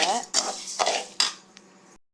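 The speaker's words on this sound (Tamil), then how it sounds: "இது வந்து ட்ரை ரோஸ்ட் பண்ணிட்டுருக்கோம்." Metal clinks and scrapes of a utensil against a pan as ingredients for badam rice powder are dry roasted over a medium flame, a few close, sharp bursts over about two seconds.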